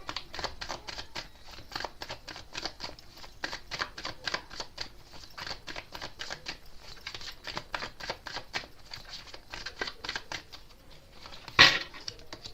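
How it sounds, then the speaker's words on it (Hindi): Tarot cards being shuffled and drawn, a steady run of soft, quick riffling flicks close by for most of the stretch, ending in one brief louder snap near the end. "तो पहले मैं कार्ड निकालूंगी आपके लिए"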